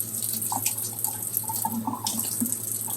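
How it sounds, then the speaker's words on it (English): A cup of water is poured into a cooking pot while making grits, giving about three seconds of steady splashing and trickling with a few drips, close up and with no talking. "Now I'm going to pour in a second cup of water."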